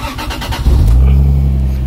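A car engine, fitted with parts from Japan, cranks briefly, then catches and revs up into a loud, sustained high idle, close by.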